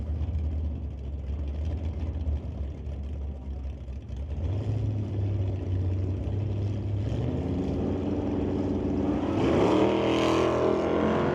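At a drag strip, a 1978 Fairmont and a Nova launch from the start line. A low idling rumble swells into a heavy engine roar, then the pitch climbs sharply as the cars accelerate away, loud and close.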